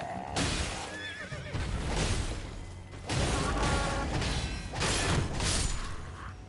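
Horse in the video game Elden Ring, giving a loud whinny and a couple of snorting neighs in close succession, with hoof clatter and game effects around them.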